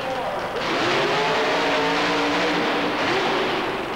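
Ford-powered super modified mud racing car engine roaring loud and steady at the starting line, a sustained high-revving drone with a commentator talking over it.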